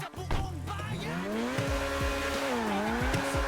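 A BMW M4 F82 in the video game GTA 5 revs and shifts gears, its engine note climbing and dropping across several gear changes, loud and close, with tire squeal and a brief whoosh at the start.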